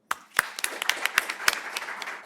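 Scattered claps from a conference audience greeting staff introductions, a handful of sharp, separate hand claps rather than full applause, fairly close and fading out over a couple of seconds.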